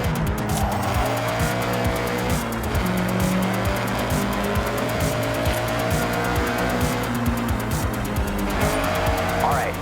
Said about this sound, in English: So, foot to the floor? Yeah, floor it.